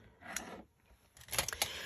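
Tim Holtz scissors with long 9-inch blades snipping paper in a craft session, a few short crisp cuts close by and fairly quiet, with a brief pause between bursts.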